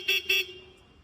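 Two quick, bright honks from a Hero Splendor motorcycle horn sound close together, then fade out.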